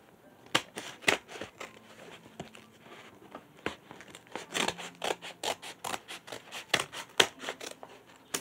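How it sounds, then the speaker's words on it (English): Scissors snip repeatedly into an Amazon package and through its paper receipt, a close, quiet series of sharp irregular cuts mixed with light crinkling, with no talking. "Accidentally cut the receipt."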